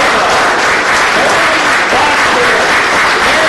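A live audience at a Star Trek Irregulars panel bursts into steady, dense applause for actor Jerry Sroka, loud and sustained throughout with no pause.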